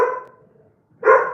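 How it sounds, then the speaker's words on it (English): A dog barks twice, one loud close bark at the start and another after a short pause, alone without any talk. "That's my dog."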